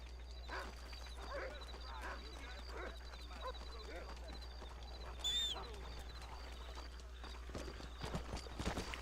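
Horse hooves clip-clop steadily in the Western video game Red Dead Redemption, a rhythmic run of moderate hoofbeats beneath almost constant talking, with game ambience and a brief whistle-like tone partway through.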